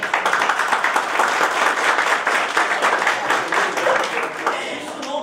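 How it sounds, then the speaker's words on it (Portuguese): Audience at a Rio de Janeiro municipal guards' meeting on the Maria da Penha law claps steadily throughout, a dense, continuous applause filling the room with no break. "Era uma salva de palmas para você."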